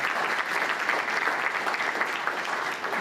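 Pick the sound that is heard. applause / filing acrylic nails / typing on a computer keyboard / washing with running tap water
applause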